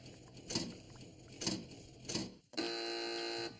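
Quiz-show buzzer on a panel game set: three short bursts of light tapping or patter, then a loud electronic buzz that holds steady for about a second before cutting off.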